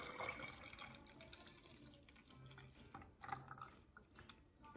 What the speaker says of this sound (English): I'm going to pour my stuff that I just made on the stove, which was milk, brown sugar, cinnamon, and vanilla extract.